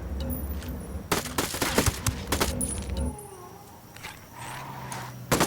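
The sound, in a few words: gunfire from squad in video game Ghost Recon Wildlands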